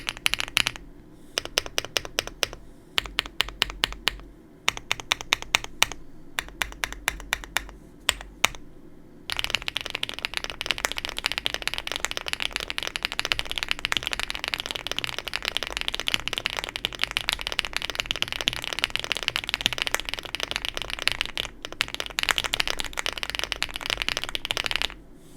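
Joyakdol75 Korean mechanical keyboard typed on close up: first short bursts of crisp clacky keystrokes separated by pauses, then a long dense run of rapid continuous typing, with no talking.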